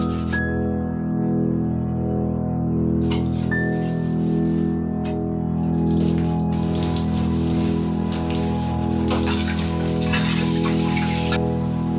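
Dishes being washed under a running tap in a home kitchen: a steady, loud gush of water with clinks and clatters of utensils scattered through it, over a constant low hum.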